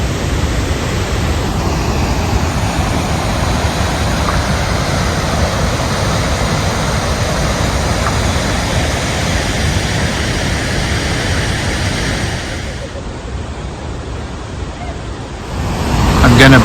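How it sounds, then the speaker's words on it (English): Godafoss waterfall in Iceland, the river pouring over the edge in a dense, steady roar heard close up, shifting slightly near the end as the position changes. "I hope you can hear the force of the water. It's like Niagara Falls."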